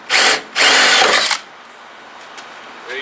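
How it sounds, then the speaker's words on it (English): A power drill whirs in two short bursts while boring a hole, the second burst longer than the first, loud and close, followed by quiet with a faint tap at the end. "Now let's get some drill bits and cause some trouble."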